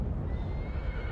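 A horse in the video game Shadow of the Colossus gives a single loud, close whinny lasting about a second, heard alone without talk.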